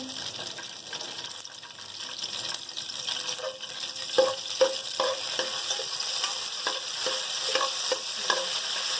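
Washed, torn curry leaves fry in hot oil as a tempering for stuffed green chillies, sizzling and crackling, then growing livelier with sharp spits and pops in the second half; no one speaks.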